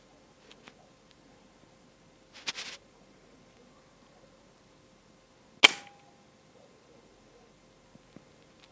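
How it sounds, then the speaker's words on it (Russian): A Hatsan Striker Edge air rifle fires once into the ground outdoors, a single sharp, loud crack that fades quickly. A softer mechanical clack comes a few seconds earlier, and faint ticks sit in a quiet background. "Буду стрелять в землю."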